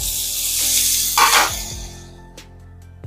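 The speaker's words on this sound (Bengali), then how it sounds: "পেঁয়াজ মরিচের সাথে আদা রসুনটা একটু ভেজে নিচ্ছি।" Onion, chilli and ginger-garlic paste sizzle in hot oil with chopped carrot, a loud close hiss that swells and then fades, with a few clinks of a utensil against the pan near the end.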